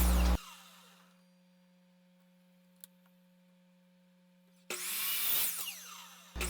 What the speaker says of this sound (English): And now I'm going to cut about 12 of them 4 inches long.